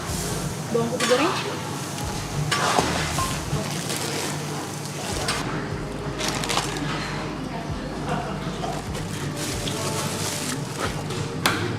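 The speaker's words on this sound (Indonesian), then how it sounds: "Bawang putih goreng, Bawang putih goreng." Garlic fries and is stirred in a pan: a continuous close sizzle with repeated scraping stirs, while voices speak now and then over the cooking.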